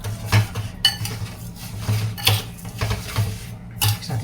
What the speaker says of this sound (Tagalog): Mix din natin siya mga karsay, no? Hanggat sa matunaw yung asukal sa karne.